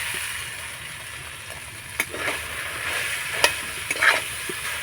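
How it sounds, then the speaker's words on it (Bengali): Grated boiled potato being stirred with fried spices in a pan, a soft continuous scraping sizzle with a few sharper utensil knocks and clinks near the end. "এবার নাড়াচাড়া করে মশলার সঙ্গে আলুটাকে ভালো করে কষিয়ে নিতে হবে"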